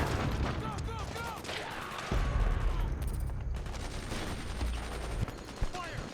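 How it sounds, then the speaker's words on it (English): Rapid automatic gunfire laying down suppressing fire in Metal Gear Solid 4, with dense bursts of shots and occasional heavier thumps under shouted voices. "Fire! Suppressing fire!"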